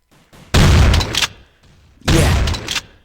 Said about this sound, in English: And so you'll see me shoot. Those are my bullets.